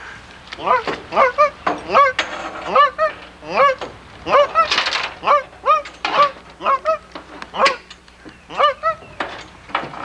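A man imitates a goose with his voice, giving a long run of nasal honks in quick rhythmic succession, loud and close, set during an electrofishing outing on Tennessee waters.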